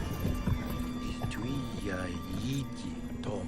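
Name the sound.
horses riding, hooves clip-clopping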